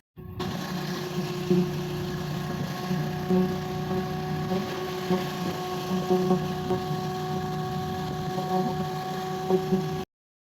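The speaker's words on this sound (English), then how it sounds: "This is where it goes across the roof and down to the vacuum pump with attached bag in the yard." A vacuum pump with an attached bag, set in a yard, hauls old attic insulation out through tubing running across a roof; a steady mechanical drone with tonal hum runs continuously and fairly loud throughout, with faint periodic pulses.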